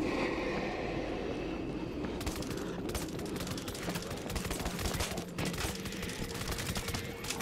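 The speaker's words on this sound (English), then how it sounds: "Machine gun is set." An auto machine gun turret fires in the zombie shooter World War Z, heard as dense, rapid bursts of gunfire over a loud, rumbling backdrop of game noise and commotion, sustained and close.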